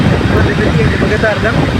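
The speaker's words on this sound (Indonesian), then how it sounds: "cuma goyang-goyang. Angin toh." Wind gusts outdoors buffet the microphone beside a welded galvanized-pipe pole during an outdoor CCTV installation, making a steady, loud low rumble of wind noise throughout.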